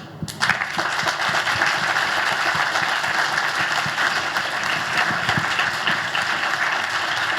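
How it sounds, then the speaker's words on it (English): Audience applause for panelists at a public discussion event, a sustained dense roar of many hands clapping at a steady level throughout, from a crowd in a hall. "If we can have keep that round of applause going for all of our panelists"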